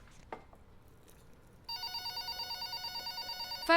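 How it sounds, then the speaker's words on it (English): A telephone rings in an office with a steady electronic warble, starting partway through after a quiet stretch and sounding fairly close. "Phone. I'll get it."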